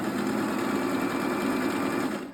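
A Singer sewing machine stitches a buttonhole in a steady, fast rattling run, close and loud, with no break and no voices.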